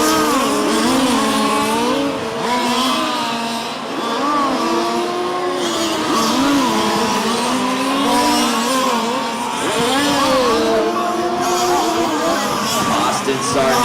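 Race cars lapping an oval racetrack, loud engines rising and falling as they pass, with tire noise and a crowd murmur underneath and an announcer talking over it.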